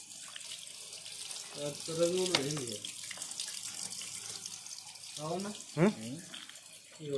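Water runs from a tap, filling a container with a steady splashing rush while a few voices speak over it at moderate distance.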